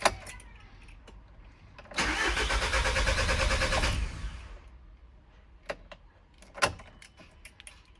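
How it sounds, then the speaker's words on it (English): A VW Caddy engine cranks for about two seconds after a fuel injector replacement, then catches and runs briefly before dying away, with faint clicks and handling noises around it. "it is going to take a little bit of cranking to get some fuel over"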